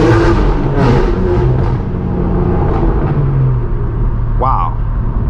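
Straight-piped BMW M4 G82 exhaust with a raspy, deep rumble that rises and falls in revs, running steadily under someone talking close by.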